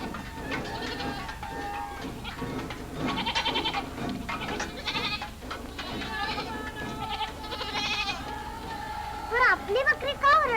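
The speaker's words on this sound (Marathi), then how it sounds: "पण आपली बकरी का ओरडतात?" Goats bleat several times in a village setting, the louder calls rising near the end, over a dense, continuous background of other sound.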